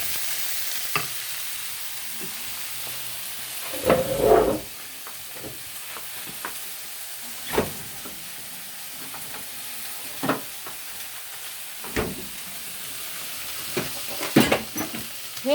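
Beef steak and onion fry in butter in a pan with a continuous soft sizzle, while sharp scrapes and clinks of a utensil stirring the pan break in every few seconds.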